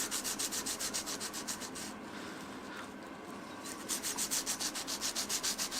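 A Scandi grind knife blade is sharpened by hand on a stone, making rhythmic scraping strokes, close and steady, with a short pause mid-way before the rapid back-and-forth rubbing resumes.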